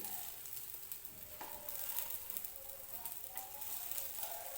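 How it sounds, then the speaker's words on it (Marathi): Eggplant slices sizzle steadily in hot oil in a pan as they are turned with a spoon, a dense, constant frying hiss with a few faint scrapes and no voices. "चमच्याने एक बाजू अशी पलटून घेणार आहे मी"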